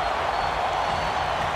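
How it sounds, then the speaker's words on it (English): Basketball arena crowd cheering in an NBA game, a dense continuous roar of voices and applause, loud and sustained throughout with no distinct individual sounds. "the crowd went crazy"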